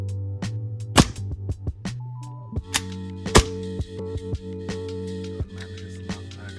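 Tokyo Marui airsoft pistol being test fired without BBs after a nozzle replacement: sharp, close snapping shots at irregular intervals, with a few louder cracks over a steady background hum.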